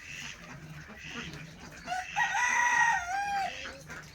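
Local chickens and chicks in a homemade pen on a small home farm, clucking and a rooster's crow rising loudly partway through, with softer chirps and rustling around it, close by.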